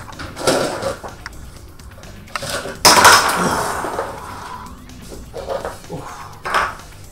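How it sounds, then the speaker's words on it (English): Ice clinks and rattles as it is stirred around in a bucket, with loud scraping clatters and hollow knocks in irregular bursts, close up and without talk. "Some ice. Mix it around."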